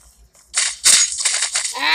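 Gunfire in the online shooter Central Ops: a few sharp, close cracks bunched within two seconds, followed by a brief rising game effect.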